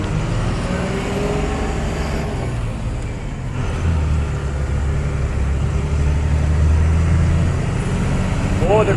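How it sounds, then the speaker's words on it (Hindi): Traffic on a narrow, landslide-prone mountain road to Kashmir, a steady loud rumble of car and truck engines passing close by, with a faint brake hiss and voices over the continuous noise. "यहाँ से आ रही हैं गाड़ी, यहाँ से जा रही हैं।"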